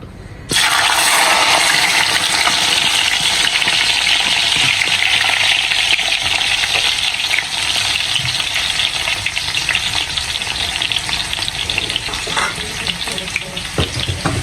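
Locust beans (iru) fry in a pot with loud, dense, continuous sizzling that starts abruptly and holds steady throughout, close up with no voices.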